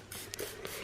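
Quick spritzes of detailer sprayed onto a car body to wet it before clay bar work, two or three short hissing bursts, close and fairly quiet.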